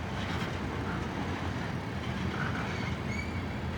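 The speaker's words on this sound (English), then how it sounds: "Boy, this was the longest train in history." A long BNSF freight train of tank cars rolls past in Piscataway, a continuous, even rumble and rattle of wheels on rail that stays steady and fairly close throughout, with faint higher squeals near the end.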